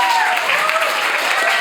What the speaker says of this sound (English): Keep clapping. Keep cheering.